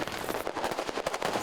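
New Year's fireworks in Papua, a rapid string of crackling bangs and pops in irregular bursts, loud and dense, with no voices.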